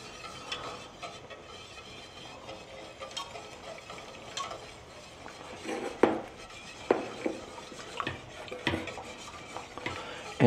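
A spoon stirs cheese into warm cream for a mac and cheese sauce, giving soft, irregular scrapes and clinks against the pot that grow louder near the end, with a faint simmer beneath.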